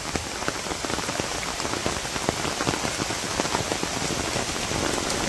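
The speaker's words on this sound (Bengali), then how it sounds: "বৃষ্টি অবশ্য ভালোই লাগে" Heavy rain pouring onto surfaces in a village, a dense, steady, loud patter with no pauses.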